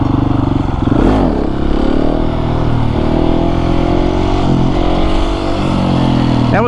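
A KTM 701 motorcycle accelerating hard during a wheelie attempt, its engine close and loud, revving and pulling steadily for the whole stretch with a brief surge near the start.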